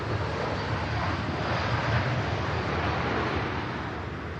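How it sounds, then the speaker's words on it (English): A Lufthansa Airbus A319 airliner touching down at Manchester Airport makes a continuous, broad, distant roar and rumble that holds steady and eases slightly at the end. "Great touchdown from the Lufthansa 319."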